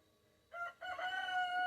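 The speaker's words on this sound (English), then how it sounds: "These roosters. Now we got another rooster." A rooster crows nearby, a rising cock-a-doodle-doo that starts abruptly after quiet and holds strong and clear to the end.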